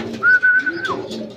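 A racing pigeon coos briefly, close by, a soft low call with a thin whistle-like tone above it, over faint background noise as birds return from a fun race lap at a loft.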